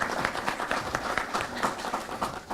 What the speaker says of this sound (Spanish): Lo recibimos con un fuerte aplauso